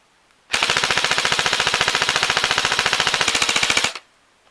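A PTS Magpul RM4 ERG airsoft rifle fires a long, steady full-auto burst of rapid, evenly spaced mechanical cracks with a recoil thump. The burst runs loud and close for about three and a half seconds, then stops cleanly.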